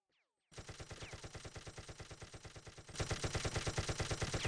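Rapid automatic gunfire in a competitive online video game match, firing in steady evenly spaced shots that continue without pause and grow louder partway through.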